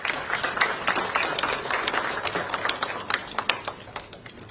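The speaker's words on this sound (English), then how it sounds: "So a round of applause for that." A seated audience at an India-Bhutan tourism event in Bhutan claps in scattered, uneven bursts, crisp individual claps spread through a steady patter that swells and thins without any voices.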